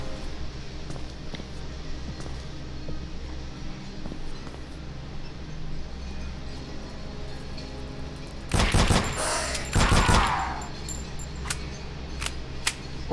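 Gunfire from a gun in the horror action game Antarctica 88: two loud, close bursts of rapid shots stand out against a steady low background hum, with a few faint clicks around them.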